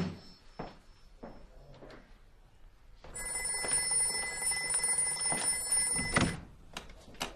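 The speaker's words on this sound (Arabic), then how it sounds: "ها عم يرن التليفون، اكيد هذا النقيب حسان." A telephone bell rings steadily for about four seconds in an indoor domestic scene, loud and close after a few quieter knocks and shuffles, then stops abruptly.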